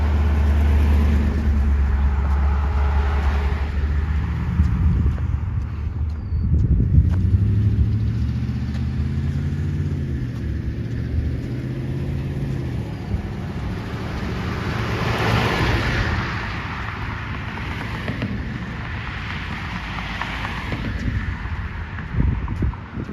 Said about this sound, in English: All kinds of traffic today.